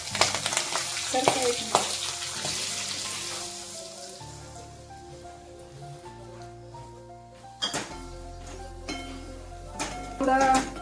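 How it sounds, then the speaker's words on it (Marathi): Semolina roasts in ghee in a pan, a crackling sizzle with spatula stirring that fades to a quieter simmer, over steady background tones, before louder stirring returns; a voice speaks briefly. "तेल व्यवस्थित गरम झालं, तूप याच्यात मी हा रवा टाकून घेते।"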